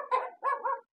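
A dog barks three times in quick succession, close and fairly loud, with a short pause after the first bark. The setting is a rooftop where a sacrificial animal is being slaughtered.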